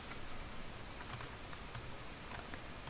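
Quiet, sparse taps on a computer keyboard while working in design software, a few isolated clicks over a soft background hiss.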